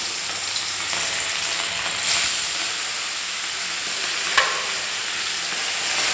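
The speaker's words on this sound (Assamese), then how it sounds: "মই মাছ 2 পিচ মই তেলত প্ৰথমতে ভাজিম দেই।" Pieces of rohu fish fry in hot oil, a loud, continuous sizzle and hiss with a sharp crackle partway through, no voices.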